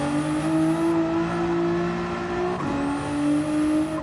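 A race car engine in a sim racing game howls at full throttle, a steady high-pitched drone that dips briefly as it shifts gear and then climbs again, loud and close with no voices.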